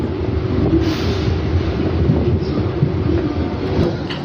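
A train rolls along steadily near Sheoraphuli with a loud, continuous rumble and rattle, close and unbroken throughout.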